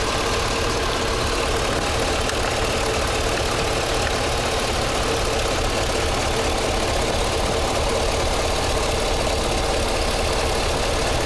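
A car engine idling roughly and misfiring because of a vacuum leak on both banks, a loud continuous rumble with uneven, knocking pulses running throughout and no speech.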